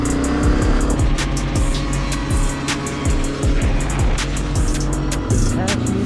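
Two-stroke dirt bike engines riding through a forest trail, loud buzzing revs rising and dropping repeatedly, with a rider's voice over the engine noise.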